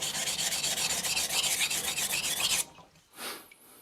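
An Aogami 2 steel bunka knife is rubbed back and forth on a coarse Shapton Glass 220 whetstone in rapid, steady, close grinding strokes that stop abruptly, followed by a brief scrape.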